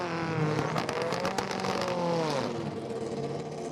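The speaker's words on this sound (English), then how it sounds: "Unique sound, the sound of a BTCC car getting underway." BTCC touring race car pulling away at Donington Park National, engine revving hard and droning steadily as it gets underway, loud and close trackside with crowd ambience and no talk.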